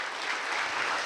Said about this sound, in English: Let's give Terry Rupp a round of applause.